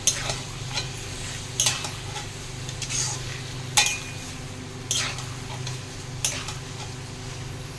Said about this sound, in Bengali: পেঁয়াজটাকে প্রথমে বেরেস্তা করে নেব।